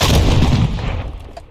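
A Strela-P missile launcher firing in Fallout 4 gives a single loud, close blast with a roaring burst that fades quickly, with no talk.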